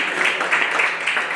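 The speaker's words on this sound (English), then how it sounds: "Let's all clap our hands and thank our living God" A church congregation at a Sunday service clapping hands together, a dense, steady wash of applause that fills the room for a moment.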